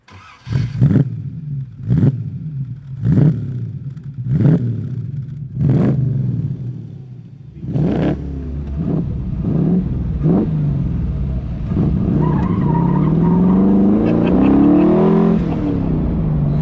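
An MGB classic British sports car engine revs hard in a series of sharp, evenly spaced blips, then roars up through rising gears, loud and close.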